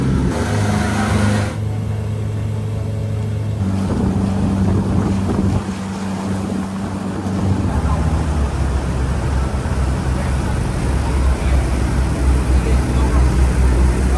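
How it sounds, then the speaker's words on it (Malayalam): A small fishermen's motorboat cruises on Ha Long Bay in Vietnam, its engine a loud, steady drone mixed with wind and water rush that continues unbroken throughout. "അങ്ങനെ ഞാനും ആ ചെറിയ ബോട്ടിലേക്ക് കയറി."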